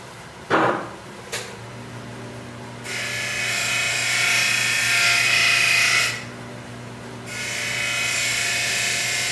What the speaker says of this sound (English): I'm gonna go sharpen a couple chisels for him.